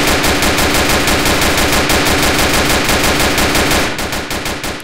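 Sustained rapid automatic gunfire from a weapon in a video game, loud and close, the rhythmic shots firing continuously for several seconds before fading slightly at the end.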